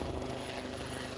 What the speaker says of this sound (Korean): 매끈하게 잘 빠진 진회색빛 헬기가 태극마크를 달고 하늘을 날아오릅니다.